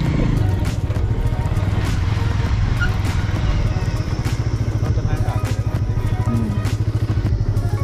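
A Bajaj Avenger 180 motorcycle rides an off-road track, its engine thrumming in a steady rough pulse, loud and close, with rattles and wind buffeting over it.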